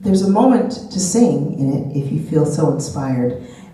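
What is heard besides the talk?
No everyday noise stands out behind the speech.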